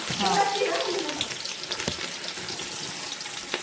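Raw onion tipped into hot ghee in a pan for a vegetable biryani, giving a bright, hissing sizzle that is loudest at first and then settles into a steady frying crackle.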